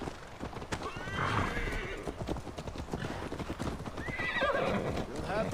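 Horse galloping in Assassin's Creed Valhalla: rapid repeated hoofbeats pound throughout with a couple of whinnies, close and steady, with faint voices underneath.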